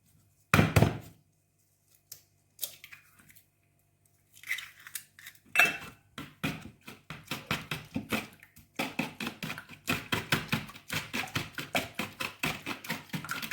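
Kefir sponge cake batter with eggs being whisked in a bowl, a fast run of repeated scraping taps of a utensil against the bowl that grows busier and keeps going, after a few scattered clinks at the start.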